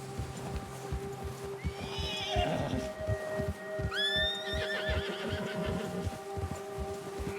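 A horse in the video game Red Dead Redemption 2 gives two clear, moderately loud neighs over a steady rhythmic clip-clop of hooves, with no talking.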